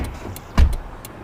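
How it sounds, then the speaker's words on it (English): A car door is worked as a sound effect in an audio drama, heard as a single solid, close thud against a quiet background, with no talk. "I went to the car, opened the door and got in."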